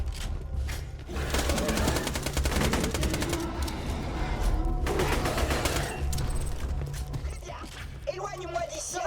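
Weapons fire in the video game Borderlands 2 as rapid, sustained bursts of gunshots for several seconds, with voices talking over the shooting.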